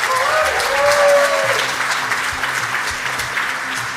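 An audience at a Global Citizen India event claps steadily, a broad, dense patter of many hands, loud at first and easing slightly, with faint voices underneath.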